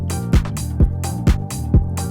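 House bass line run through a Guitar Rig 6 bass preset, playing a steady repeating pattern of sustained low notes with regular punchy hits about every half second, loud and alone.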